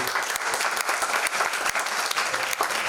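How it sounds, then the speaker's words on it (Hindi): A theatre audience at a Hindi drama performance claps in steady, dense applause for a few seconds, loud and close with no talk over it. "एक बार जोरदार ताली से"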